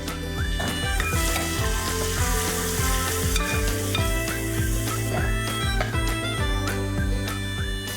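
Onion, garlic, ginger, curry leaves and tomato fry in a pan over cumin and asafoetida, a dense, loud sizzle with a tonal musical backdrop running throughout and no speech.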